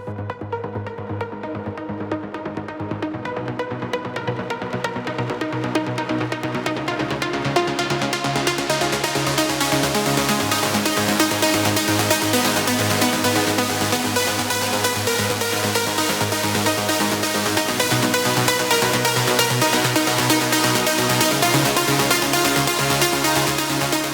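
Bright, dense trance lead built from four layered synthesizers plays a sustained melody that swells fuller after a few seconds and stays loud and continuous.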